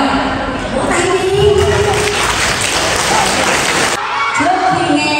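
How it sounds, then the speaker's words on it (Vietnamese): An audience claps for a boy at a Vietnamese Buddhist temple gathering, steady applause from a crowd throughout, with a voice and background music or noise underneath. "Vỗ tay đi."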